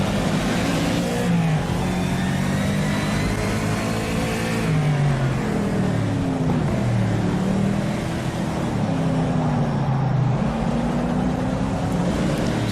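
A race car engine in the sim racing game rFactor 2 roars loud and close, revving up and down through shifts in a continuous drone across the whole stretch.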